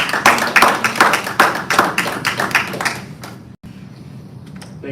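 School board meeting audience giving a round of applause, brisk loud clapping for about three seconds that then breaks off into quiet room tone.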